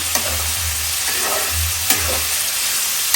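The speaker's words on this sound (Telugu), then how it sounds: "బాగా నూనెలో వేసి ఎర్రగా వేయించుకోవాలి" Prawns fry in oil in a pan, a loud, close, continuous sizzle with a few sharp stirring scrapes.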